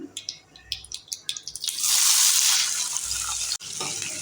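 Finely chopped onions dropped into hot oil with popping mustard seeds and cumin for a hesaru kaalu palya, first scattered crackles and pops, then a loud burst of sizzling that stays steady.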